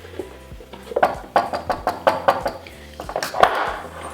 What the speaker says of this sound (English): So let me just get the last of this out of here. Just gonna scoop it out.